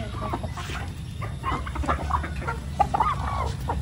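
Native chickens cluck and call softly around a live chicken store, several overlapping short clucks and rooster-like notes scattered over a low background rumble, moderately distant and unaccompanied by talk.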